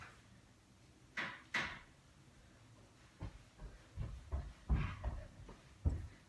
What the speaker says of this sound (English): I opened the cabinet door for her